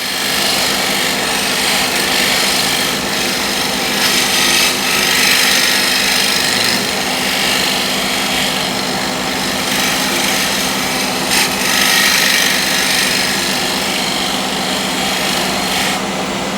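A spear point scraper is drawn across timber in a steady, loud rasping scrape that runs continuously with slight swells in intensity, close up and with no voices.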